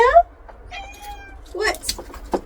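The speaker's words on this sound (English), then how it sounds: "my cat is now walking around all my seedlings" Milo the cat meowing in a greenhouse: a close, loud meow at the start followed by a drawn-out whining cry, with someone talking and rustling sounds near the end.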